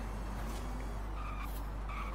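A modified electric Porsche Taycan Turbo sports car accelerating in the racing game Forza Horizon 5, a steady electric whine with tire squeal and skidding over a constant low hum, loud and continuous with no talking.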